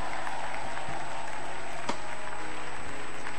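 A church congregation applauds and cheers in a sustained, steady wash of clapping that fills the space, with one sharper burst partway through.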